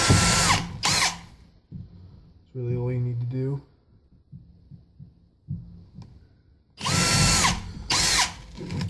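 A power drill bores holes in an acrylic turkey pot call in a woodworking shop, loud whirring bursts at the start and again near the end, with a person speaking in the quieter stretch between.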